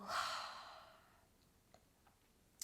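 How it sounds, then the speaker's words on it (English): A single strong, forceful exhale of kapalabhati breath of fire during a yoga pranayama practice, a breathy rush at the start that fades out, followed by faint small clicks. "your kapalabhati, your breath of fire, your very intense, strong exhale"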